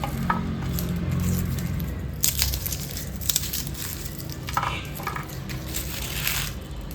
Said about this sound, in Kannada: ನಾನು ಸಿಪ್ಪೆ ಸಮೇತ ಜಜ್ಜಿಬಿಟ್ಟು ಹಾಕೊಳ್ತೀನಿ